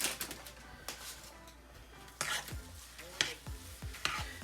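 Oatmeal is stirred into a peanut butter and chocolate chip breakfast mixture, making soft intermittent scrapes and spoon taps against the bowl, quiet and close, with a few sharper knocks.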